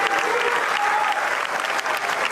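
Mourners in a packed cathedral give long, thunderous applause as a young man's white coffin enters at his funeral in Sicily, a steady, dense roar of many hands clapping.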